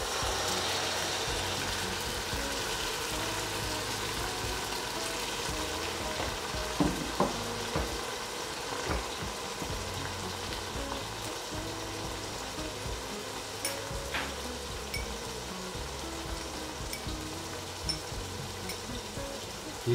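Chopped tomatoes frying in a pan of chicken curry, a steady low sizzle with a few soft stirring clicks and scrapes, quiet and with no talk.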